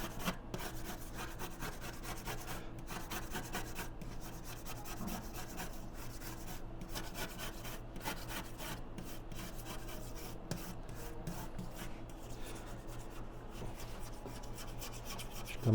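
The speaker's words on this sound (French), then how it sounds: "Fait que on gratte tout simplement comme ça." A Tazza Caffe oven being scraped clean, a steady continuous rasping scrape running throughout at close range, working from the corners toward the middle, with no talk.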